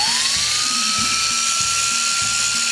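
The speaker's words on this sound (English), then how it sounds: "I put a Q-tip into my drill." A high-pitched power drill spinning a cotton swab sprayed with carb cleaner whines steadily, its pitch rising slightly as it spins up, alone and close with a faint rhythmic rattle underneath.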